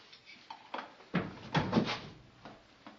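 A door being forced and crammed shut into a crooked frame makes a few scraping thumps and bangs, loudest around the middle, in a quiet indoor space.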